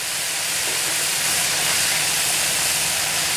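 Fish deep-frying in hot oil, a loud, steady, dense hiss and sizzle held close and constant throughout, with no pops or voices.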